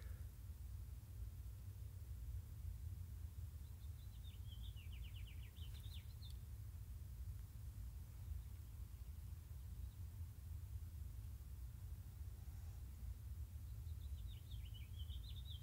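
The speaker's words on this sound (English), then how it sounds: "Oh, listen to those birds." Songbirds chirp in short trilling bursts around a spring garden patio, faint and somewhat distant over a steady low outdoor rumble, with a couple of separate phrases spaced apart.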